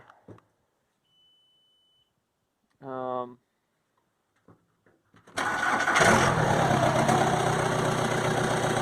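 A big old German diesel engine cranks and fires up at once, settling into a loud, steady rumbling run that fills the second half, after a brief beep and a short voice earlier in otherwise quiet surroundings.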